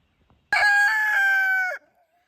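A single rooster crows once, loud and close, a drawn-out call lasting just over a second, with quiet surroundings before and after.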